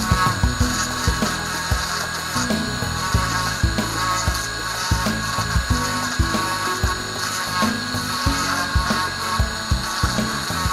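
Sanding to blend ridges on a wooden shark carving: a constant whirring hum with rhythmic scratchy strokes repeating close to the microphone.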